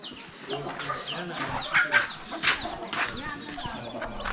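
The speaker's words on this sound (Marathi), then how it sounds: "हे बघा हा काल कोंबडा आणला आहे" Chickens cluck and a rooster calls at a poultry farm, with overlapping hen calls and bird chatter close by, fairly loud and steady throughout with a few stronger bursts.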